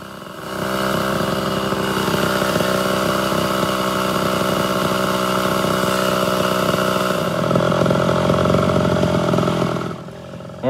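A ported Homelite Super XL-Auto chainsaw runs at a steady, loud idle with a buzzing, vibrating engine tone. Partway through, the idle shifts and jumps slightly, then settles and cuts off near the end. No one talks.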